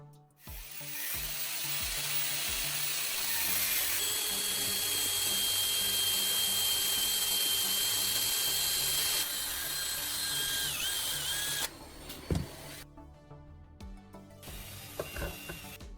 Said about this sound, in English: Turn the lamp base upside down and drill one hole at the very bottom.